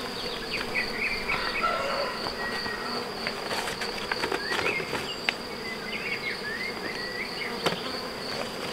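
Honey bees swarm around a beehive, their dense, continuous buzzing close and fairly loud, with individual bees zipping past and a few small knocks and clicks over the drone.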